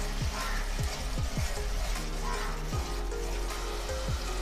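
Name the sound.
onion and tomato paste sautéing in a pan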